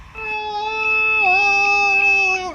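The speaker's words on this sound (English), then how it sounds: "that was my alarm." A warbling electronic alarm tone rings steadily for a couple of seconds, bright and tonal, then cuts off.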